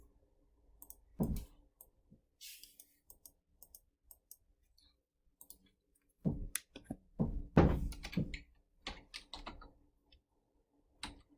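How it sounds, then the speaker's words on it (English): Scattered keystrokes and clicks on a computer keyboard as a math formula is typed, sparse at first and then a denser burst, quiet and close, with no talking. "I'm just going to type this formula"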